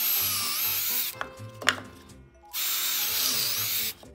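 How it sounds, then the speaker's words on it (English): Power drill fitted with a countersinking bit boring into a wooden catapult part, a loud close whine for about a second, a brief pause with small knocks, then a second steady burst of drilling. "Countersinking bit."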